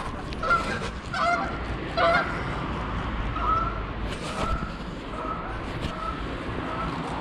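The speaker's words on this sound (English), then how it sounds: "Got distracted there by geese." Several geese honk repeatedly, loud and fairly close, over steady outdoor background noise on a river in winter, heard from a kayak.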